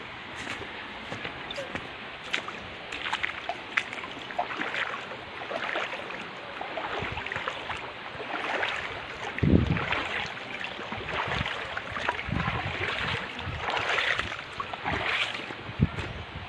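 River water during a crossing, with irregular splashes and sloshing bursts over a steady wash of wind and flowing water, close to the microphone.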